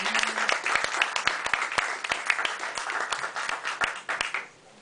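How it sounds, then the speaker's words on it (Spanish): Audience applause at a literary and arts evening in a café, many hands clapping in a dense, steady patter with sharp individual claps standing out, fading out near the end. "Me refiero a Julio Bepré, por quien pido un fuerte aplauso."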